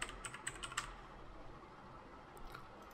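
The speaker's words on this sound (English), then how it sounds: "And let's type in our second text that is stylish." Quick taps on a computer keyboard, close and fairly faint, clustered in the first second with a few more keystrokes near the end over quiet room noise.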